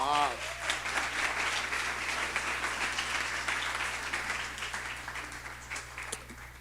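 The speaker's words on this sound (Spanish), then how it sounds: "Denle un aplauso al Señor" A church congregation claps for the Lord, a sustained round of applause after a voice at the start, holding steady then slowly tapering off.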